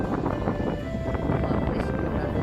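Gusty wind rushes over the microphone in a continuous roar, with fluctuating bursts of noise and no clear voices.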